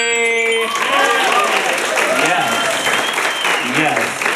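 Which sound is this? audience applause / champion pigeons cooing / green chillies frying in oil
audience applause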